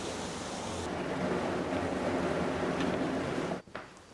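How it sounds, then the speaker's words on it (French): Steady broadband rush of river water flowing beneath the foundations of a disused water mill in Anjou, its wheel gone, continuous and fairly loud before cutting off sharply near the end. "l'eau de la rivière s'écoule toujours sous les fondations"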